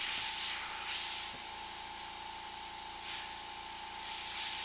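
A Pocket Graphics airbrush spraying paint for freehand detail shading, heard as a few short, soft hissing bursts of air separated by brief pauses, close by and alone over a faint steady hum.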